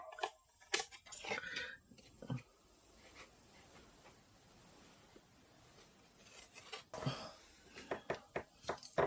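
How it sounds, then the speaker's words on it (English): Scissors snip through paper cut out for a handmade ephemera folder book cover, with several short crisp bursts near the start and a busier cluster of quiet cuts and rustles toward the end. "now I'm going to go ahead and cut"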